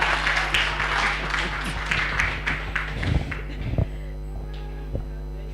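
Scattered applause from an audience at a partners' meeting, a dense wash of clapping that thins into a few sparse individual claps, with a steady room hum underneath.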